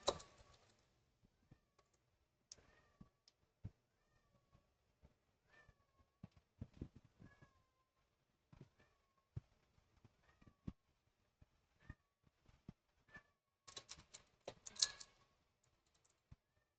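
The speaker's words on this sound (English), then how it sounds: "Sorry if you can hear the cat in the background." A male house cat meows faintly several times in the background of a quiet room, mixed with soft computer-keyboard typing and clicking during a modded Stardew Valley game stream.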